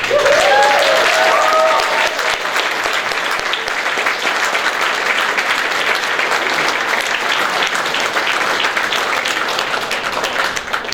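Loud, sustained audience applause for Victoria at a tenth-anniversary celebration, dense clapping running the full length with brief whoops near the start.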